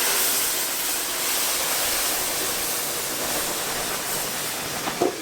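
Sweet syrup poured into roasted semolina, giving a steady loud hiss and sizzle that lasts throughout with little change, close by.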